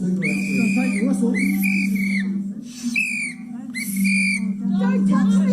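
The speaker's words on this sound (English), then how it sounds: "Take the whistle off" A loud whistle is blown repeatedly at a Stop Co-Governance protest in New Zealand, shrill sustained blasts in four bursts over a steady low hum and crowd noise, with voices shouting between them.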